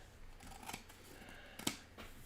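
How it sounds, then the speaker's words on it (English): Scissors snip along the edges of a covered card in a papercraft pumpkin card class, a few close, sharp cuts separated by quiet rustling of paper. "Covered my card, flipped it over, just trimming up my edges a little bit."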